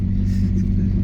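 A two-wheel-drive truck drives through soft beach sand with a steady, close, low engine rumble and no talk over it.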